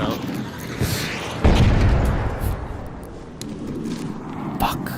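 Grenade blasts boom in the video game Arc Raiders, with one heavy thump standing out among rumbling bursts and crackle, while a player talks over the action.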